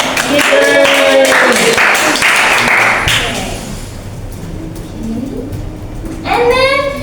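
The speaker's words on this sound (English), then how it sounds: "So we need to give applause for everyone." A classroom group claps for everyone for about three seconds, a dense patter of many hands with children's voices mixed in, before it fades and a voice speaks.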